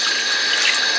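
Soaked rice for chicken pilaf rinsed under a running tap, a close, loud, steady rush of water splashing into a sink without pause.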